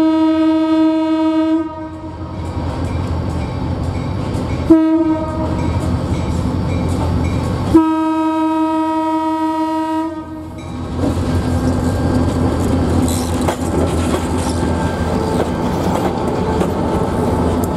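A CSX freight train in Maine passes close by, its horn blaring in long repeated blasts over the steady roar and clatter of rolling railcars.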